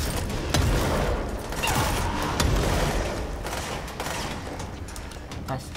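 In the game Control, shots ring out as repeated sharp cracks scattered through a dense, noisy firefight, with people talking excitedly over the gunfire.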